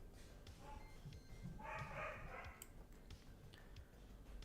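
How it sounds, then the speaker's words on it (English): A dog barking in a room upstairs during a miniature painting stream, a few muffled, distant barks and yips that come through faintly under quiet background noise. "Apologize for the dog upstairs."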